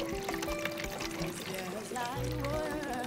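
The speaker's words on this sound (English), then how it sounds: "You can actually hear water dripping into the barrel." Water from a garage roof runs through the gutter and downspout into a diverter unit and splashes down into a rain barrel, a steady pouring trickle heard close and continuous, with some faint background voice.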